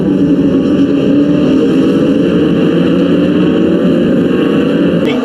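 Moto2 racing motorcycles on a warm-up lap in Andalusia, a steady loud engine drone that holds unbroken throughout, with no voices over it.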